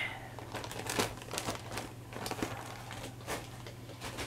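Crinkly plastic packaging rustles and crackles up close as sewing trim is pulled out, a quiet run of irregular crumpling over a faint steady hum.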